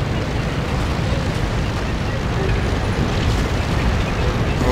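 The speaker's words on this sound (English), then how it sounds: "Oh, I think artillery is hitting our base." Artillery shells exploding around a base in a tank video game, heard as a dense, continuous rumble of booms and blasts filling the whole stretch at steady, fairly loud level.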